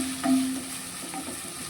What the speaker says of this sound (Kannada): ಇವಾಗ ಇದಕ್ಕೆ ನಾನು ಟೊಮೆಟೊವನ್ನು ಸೇರಿಸ್ಕೊಳ್ತೇನೆ. ಎರಡನ್ನು ಮಿಕ್ಸ್ ಮಾಡ್ಕೊಳ್ಳೋಣ,